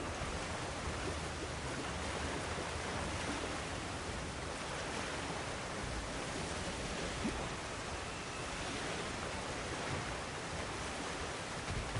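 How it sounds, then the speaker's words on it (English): Water rushing overhead in God of War Ragnarok, a steady broadband roar that carries evenly through the whole stretch without breaks, with no voices over it. "The water rushing above us, to be clear."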